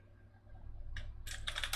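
Key clicks from a computer keyboard come in two or three quick bursts of rapid typing after a near-silent start. They are fairly close but soft, with no talking.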